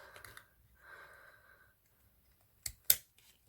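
Scissors snip off excess ribbon on a handmade hair bow, with two short, sharp cuts close up near the end after quiet handling noises.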